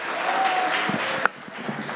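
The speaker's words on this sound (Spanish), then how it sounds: "vamos a recibir esta mañana con un fuerte aplauso como Dios se lo merece" A church congregation gives steady, fairly distant applause to welcome a pastor. One sharper clap or knock stands out partway through.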